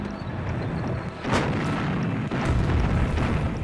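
Heavy Soviet artillery bombardment opening Operation Uranus in fog and snow rumbles continuously, with distant booms and a couple of sharper blasts rising out of the low roar.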